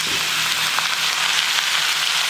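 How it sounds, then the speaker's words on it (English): Ground beef frying in a pan with Worcestershire sauce added, giving a steady, dense sizzle with faint crackles throughout, fairly close and with no voices. "go ahead and add our Worcestershire sauce to the mix"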